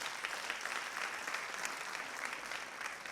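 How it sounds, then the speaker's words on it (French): Steady, dense applause from a crowd at a French election campaign launch rally fills the hall evenly, sounding somewhat distant and soft, with no speech on top. "vous pouvez les applaudir"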